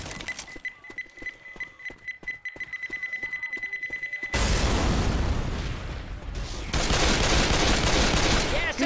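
A pipe bomb in Left 4 Dead 2 beeps in rapid rising pulses, then bursts into a loud, broad blast with a roaring noisy tail, followed by a second swell of heavy rumble and gunfire-like crackle.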